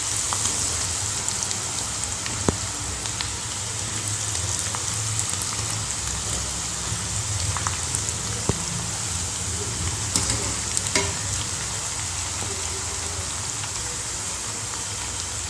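Ragi pakoda dough crumbled by hand into hot oil, giving a steady dense sizzle and crackle that runs the whole time, with a few sharper pops breaking through.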